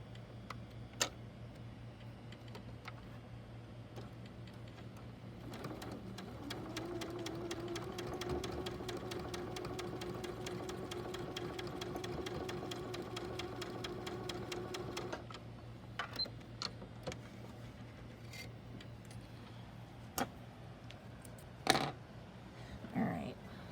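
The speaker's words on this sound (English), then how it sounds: "Now we're going to go sew right on this line." Sewing machine stitching a seam on a snowflake quilt block; a fast, even mechanical ticking run of about nine seconds in the middle, framed by quieter handling clicks and faint room noise.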